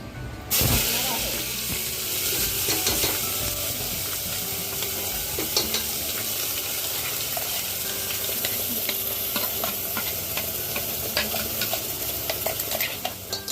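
Ground masala roasts in a pan for a village-style chicken curry, a continuous hissing sizzle with frequent scraping and stirring of a spatula, and a voice talks over it for much of the time.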